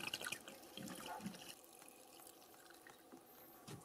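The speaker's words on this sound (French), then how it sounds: "On ouvre le bouchon et on verse." Petrol pours from a can into the fuel tank of an inverter generator, a faint steady trickle and gurgle of liquid, close and quiet, with no talk.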